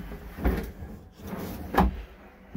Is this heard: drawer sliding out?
yes